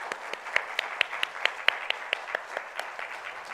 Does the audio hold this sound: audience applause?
yes